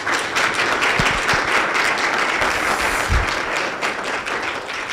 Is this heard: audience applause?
yes